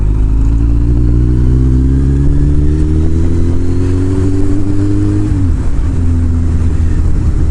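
Motorcycle engine running close and loud, pitch rising steadily as it revs up for about five seconds before dropping back to a lower rumble, with no talking.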